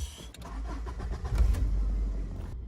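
A Subaru Legacy engine cranks and catches after an ignition cylinder replacement, rumbling low and steady for a couple of seconds with no voices.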